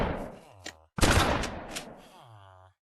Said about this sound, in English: Now our last gun is the Spaz 12 shotgun